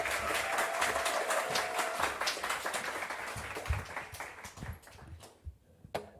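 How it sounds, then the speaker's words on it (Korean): Audience applause in a church welcoming a speaker, a dense burst of clapping that gradually thins and fades out toward the end. "나오실 때 큰 박수로 환영하도록 하겠습니다"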